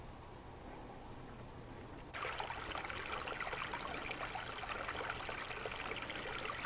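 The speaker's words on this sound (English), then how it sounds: "I'm looking upstream right now at the brook as it comes down the mountain" A mountain brook flows over rocks with a faint, steady rushing and trickling that turns louder and brighter partway through, and no voices are heard.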